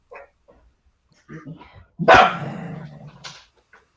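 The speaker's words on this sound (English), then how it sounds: "Oh, did you guys hear the bark?" A dog gives a single loud, sharp bark close by, trailing into a brief growl, while people talk quietly indoors before and after it.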